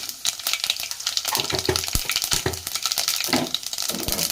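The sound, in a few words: tempering seeds sizzling in hot oil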